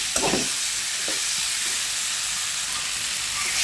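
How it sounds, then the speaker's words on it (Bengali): Hot water poured into a frying pan of sizzling fish (surma) and bitter greens, a steady loud hiss and sizzle with a few brief splashy bursts near the start, then a continuous frying crackle. "গরম জলটা দিয়ে দিচ্ছি।"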